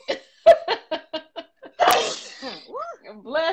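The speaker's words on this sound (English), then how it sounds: "I'm about to sneeze in a minute." A person sneezes once loudly and explosively after a run of short laughs and breaths, then more laughter and talk follow in a kitchen setting.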